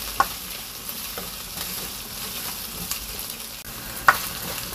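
Garlic and onion frying in a pan for a Korean hobak side dish, a steady close sizzle with a few sharp clicks and scrapes as the pan is stirred.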